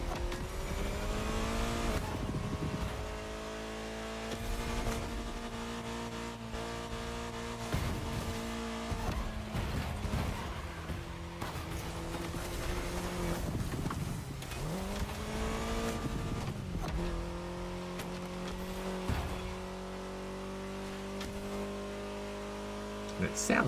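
In The Crew Motorfest racing game, a Mini's engine drones and revs continuously, its pitch rising and dropping with gear changes. Brief tire squeals come through now and then, and a voice talks over it throughout.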